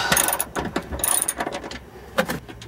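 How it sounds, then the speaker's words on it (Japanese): Hand ratchet loosening a stock mount bolt on a Subaru WRX, rapid metallic clicking in uneven bursts up close, with no one talking. "じゃあまず純正のマウントボルトを外しちゃいます。"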